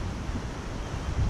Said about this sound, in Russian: Теперь ветер сменился, стал западным,